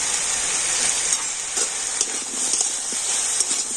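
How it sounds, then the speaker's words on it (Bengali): Mixed vegetables stir-fried with turmeric and ginger paste for a vegetarian chana dal dish, giving a steady close sizzle with soft, irregular scraping stirs throughout. "হলুদ আর আদা দিয়ে আমি আবারও সমস্ত সবজিগুলো ভালো করে একটু কষিয়ে নিয়েছি"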